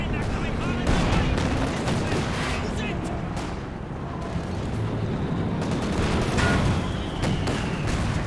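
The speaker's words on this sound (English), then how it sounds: "unfortunate timing for that mortar shell to land right as he's retreating" A mortar shell landing amid a 4v4 Company of Heroes 2 battle, buried in a continuous roar of gunfire and explosions, with scattered sharp bursts over a dense, loud battlefield din and possible voices underneath.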